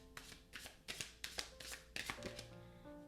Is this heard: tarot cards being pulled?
yes